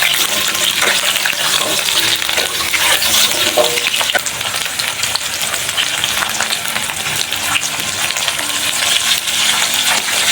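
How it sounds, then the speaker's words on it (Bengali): Potato pieces fry in hot oil tempered with black cumin seeds, a loud, steady sizzle with scattered crackles and pops running the whole time, close by, with no talking. "তেল দিয়ে 1/2 চা চামচ কালো জিরা ফোড়ন দিয়ে প্রথমে টুকরো করে রাখা আলুগুলো দিয়ে ভেজে নেব"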